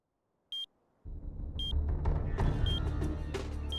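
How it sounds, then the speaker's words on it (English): Short, sharp high beeps repeating at intervals in the video game Powerslave Exhumed, signaling a transmitter piece in the level, first alone, then over a rumbling background and other game sounds. "So that beeping means that there is a transmitter piece in this level"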